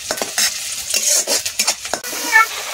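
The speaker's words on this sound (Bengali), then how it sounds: "তো পেঁয়াজ আমি ফার্স্টে লাল করে নেব।" Onions for a fish curry frying in a hot pan, a loud steady sizzle broken by several rough stirring scrapes, then a brief quieter crackle near the end, with no speech.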